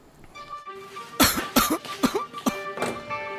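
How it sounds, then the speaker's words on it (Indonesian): A man coughs in a burst of several harsh, close coughs, separated by short gaps, with a faint background hum underneath. "Bapak batuk parah nih"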